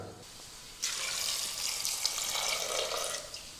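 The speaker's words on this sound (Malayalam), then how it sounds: "ഇനി ഇതിലേക്ക് നമുക്ക് കുറച്ച് വെള്ളം ഒഴിച്ചു കൊടുക്കാം." Water is poured onto washed sprouted beans in a pressure cooker, making a soft, steady splashing pour of about two and a half seconds, quiet and close.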